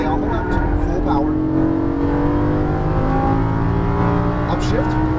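A Lamborghini Gallardo LP550-2 accelerates at full power on a racetrack, its loud engine note climbing steadily through the revs while a voice talks over it.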